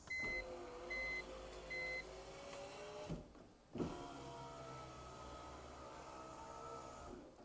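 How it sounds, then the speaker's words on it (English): Rear power window regulator on a 1997–2005 BMW E46 sedan driving the glass up, a close electric motor whine running for several seconds, stopping with a thump, then running again, with short beeps at the start. "I'm going to go hit the window switch in the front and just run this up a couple times"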